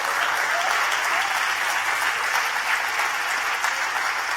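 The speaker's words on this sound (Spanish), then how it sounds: "Oh, dale ese aplauso a Dios." A church congregation claps together at a Spanish-language service, a dense, loud, sustained burst of applause filling the hall with no speech over it.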